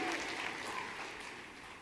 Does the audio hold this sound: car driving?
no